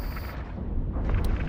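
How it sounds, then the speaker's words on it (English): Spaceship explosion in EVE Online, a continuous deep roaring rumble with crackling debris, loud and sustained throughout with no talk. "The explosions in this game are phenomenal, by the way."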